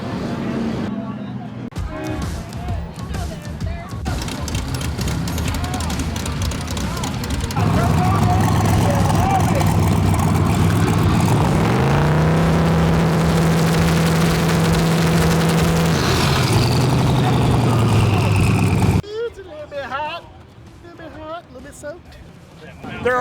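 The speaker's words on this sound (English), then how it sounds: "They're already doing burnouts." Cars doing burnouts at a motorsports cruise night: loud, sustained engine roar and revving with a rising, whining tone in the middle, then cutting back to a quieter idle, with voices in the background.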